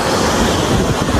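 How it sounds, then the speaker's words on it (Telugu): Waves breaking loudly on a rocky beach at Pondicherry, a dense continuous roar of surf mixed with wind noise buffeting the microphone, close and constant. "ఇది రాక్ బీచ్"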